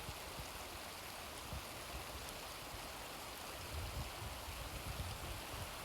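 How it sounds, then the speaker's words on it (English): The Snake River runs beside a backcountry campsite in Yellowstone National Park, making a steady, unbroken rushing wash of water, soft and somewhat distant, with no voices. "We're right next to the Snake River."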